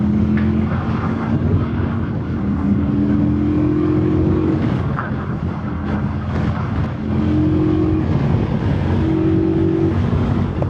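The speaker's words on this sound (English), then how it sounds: "In S mode, the upshift, S, mode upshift, clearly has a higher RPM compared to the low mode." A 2025 CFMOTO 450 CL-C motorcycle with automatic transmission, ridden in S mode, hums steadily while the engine note rises and drops through several upshifts under continuous wind noise.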